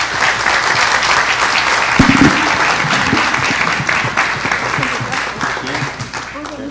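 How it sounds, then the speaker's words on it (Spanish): Applause from a conference audience on freedom of information and transparency, a steady dense clapping that swells slightly after two seconds and holds loud throughout before easing off near the end. "Un aplauso, por favor."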